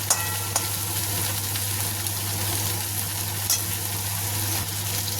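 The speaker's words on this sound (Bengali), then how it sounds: "ভেন্ডিটাকে একটু ভালো করে ভাজতে হবে" Okra and onion fry in a pan with a loud, dense, continuous sizzle and a low steady hum underneath, marked by a few faint stirring clicks; close and voiceless throughout.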